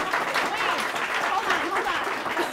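An audience applauds during a comedy talk show, dense clapping mixed with crowd cheers and lively voices, loud and continuous throughout.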